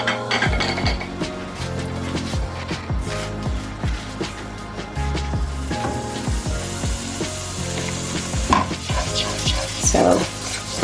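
Seafood curry cooking in a pan gives a soft sizzle beneath repeated scraping and stirring strokes and light utensil clinks against the pan, close and irregular, without speech.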